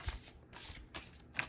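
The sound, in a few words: shuffling a deck of oracle cards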